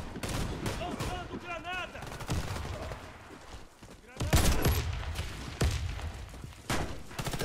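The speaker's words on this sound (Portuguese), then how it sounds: "o volume do jogo tá muito alto, é muita coisa explodindo, é muito tiroteio, é muito papapá" Chaotic Warface gameplay is full of rapid gunfire bursts, shots and explosion thumps layered over one another. The shooting is loud and constant, with some talking mixed in.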